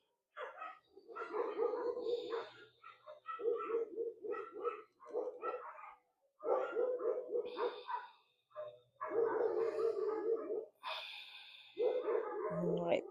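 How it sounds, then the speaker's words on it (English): Several dogs bark in bursts across a residential neighbourhood in Mexico, fairly close and loud, with pauses between volleys and birds calling faintly in the background. "the joys of being in a residential area of Mexico. Lots of dogs"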